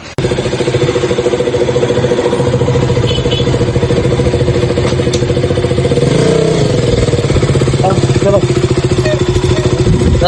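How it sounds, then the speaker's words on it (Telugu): A KTM Duke 200 motorcycle engine runs steadily and close by with a throbbing, clattering idle, rising briefly as if revved, while a voice speaks over it. "ఫైనల్ గా అయితే బైక్ అయితే స్టార్ట్ అయిపోయింది"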